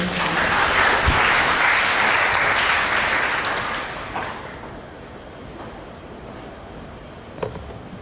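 Steady applause from an audience at a student presentation event, loud and sustained for about four seconds before fading to a quieter room tone with a stray clap or two.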